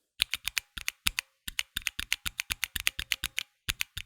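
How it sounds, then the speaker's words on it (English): Rapid typing on a Mantistek GK2 mechanical keyboard fitted with Cherry MX Red linear switches: a steady run of sharp, close key clacks with short pauses between bursts, heard alone. "the Cherry MX Reds are linear switches"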